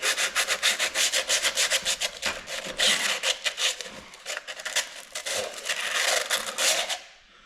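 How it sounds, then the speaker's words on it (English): Sandpaper scrubbing the cylinder wall of a seized small-block Chevy engine during teardown, a rapid rhythmic back-and-forth rasping up close that fades out at the end. "Let me get some sandpaper down in there, see if I can clean that up."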